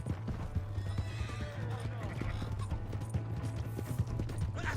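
In the video game Red Dead Redemption 2, a horse's hooves clip-clop in a steady run while the horse neighs, under continuous game noise with voices talking throughout.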